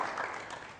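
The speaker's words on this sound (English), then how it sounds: "a round of applause for Dr. Olubi." A studio audience applauds, a soft, steady patter of clapping heard briefly without voices.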